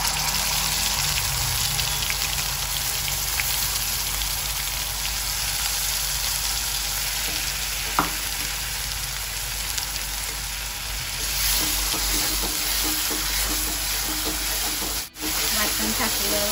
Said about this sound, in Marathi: वाटण टाकल्यावर चांगलं तेलामध्ये चांगलं फ्राय होऊ द्यायचं